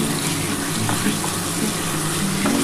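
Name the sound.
frying spices with goat meat in a pan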